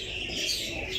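Pigeons kept in a loft, a breeder's Teddy flying and breeding birds in Pakistan, give steady chirps and soft calls throughout a brief moment, close and moderately loud with no talking.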